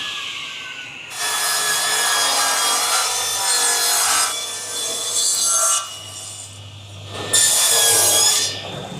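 A 12-inch, 3-horsepower cast iron table saw runs in bursts, a loud whirring hum that starts, holds for a few seconds, drops off, and surges again, close by.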